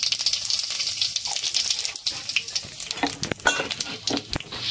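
Cumin, ajwain and asafoetida tempering in hot oil, a bright close sizzle and crackle with sharp spitting pops and a stirring sound, no voices.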